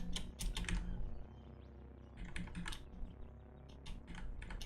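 Fingers tap quickly on a computer keyboard during a Caves of Qud game session, with irregular bursts of crisp keystrokes separated by brief pauses and no talking.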